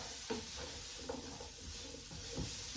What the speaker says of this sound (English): So I'm gonna let these saute for about 3 minutes. And I'm gonna stir them all up